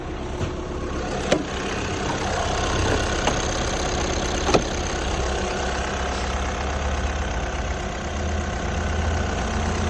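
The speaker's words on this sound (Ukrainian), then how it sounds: "Двигун працює рівненько, зайвів шумів немає." Skoda Octavia A5 car engine idling close by, a smooth, even, steady hum with a few faint clicks and no speech.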